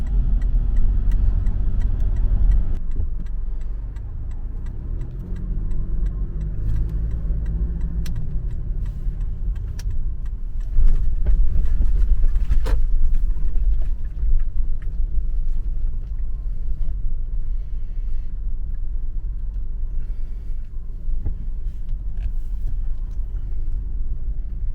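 A car drives through a busy town in Romania, its engine rumbling low and steady from inside the cabin, with a few light ticks and knocks along the way.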